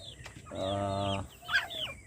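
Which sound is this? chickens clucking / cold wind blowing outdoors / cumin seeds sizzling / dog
chickens clucking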